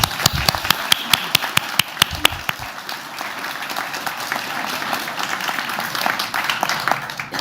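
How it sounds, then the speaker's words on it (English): Audience applause at a radiography graduation pinning ceremony: a few sharp individual claps at first, then swelling into sustained crowd clapping that fills the room. "Let's give them a well-deserved round of applause."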